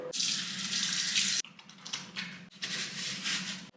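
Water runs steadily from a sink tap in an airport lounge bathroom, a loud continuous hissing stream that briefly cuts off and then resumes, with no talking.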